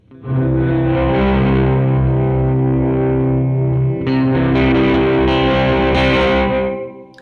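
Electric guitar through a Catalinbread Soft Focus reverb pedal with the mix all the way up, heavy reverb, sustained shoegaze chords smearing into a dense wash of sound, loud and continuous, with no talking.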